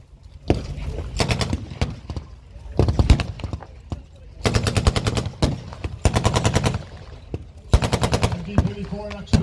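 An MG 34 machine gun fires in long rapid bursts during a tank battle display at an outdoor tank show, sharp rattling volleys separated by short pauses, with an announcer talking over the gunfire.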